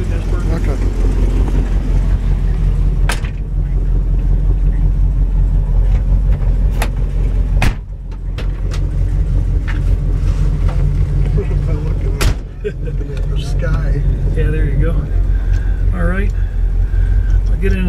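A 1965 Plymouth Satellite with a four-speed manual gearbox is being driven. Its engine gives a loud, steady low rumble throughout, with a few sharp clunks along the way, and voices can be heard inside the car.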